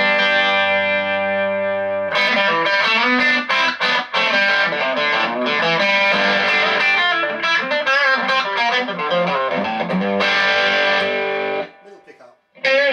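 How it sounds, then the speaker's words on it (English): Gibson-style Les Paul electric guitar played through a Laney Cub 12R amp set to a moderate crunch with reduced gain, strummed chords and riffs ringing steadily for most of the passage, close and loud, with a brief drop near the end. "Take the gain down a little bit just to give it a little bit more feel, a little bit less distortion, but to still give it some crunch"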